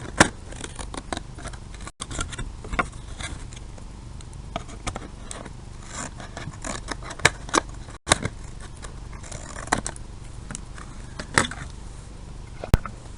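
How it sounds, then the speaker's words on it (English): Scissors trim the edge of a cardboard box shelf for a doll room, making a steady run of close, crisp snips and rustling cardboard handling with occasional sharper cuts. "we're going to trim our other shelf"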